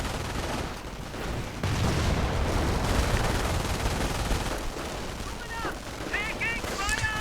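Gunfire crackles in a WWII strategy video game: dense, continuous battle noise with rattling shots and bursts throughout, mixed with other game sounds.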